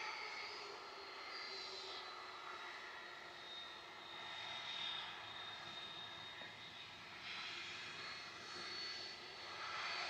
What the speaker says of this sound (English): Listen to these RB211s though.